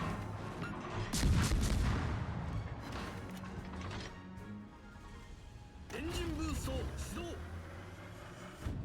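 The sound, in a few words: naval gunfire in World of Warships video game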